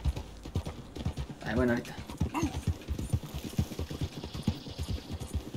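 Regular clip-clop of a horse trotting in Red Dead Redemption 2, with steady close hoofbeats running underneath someone speaking Spanish.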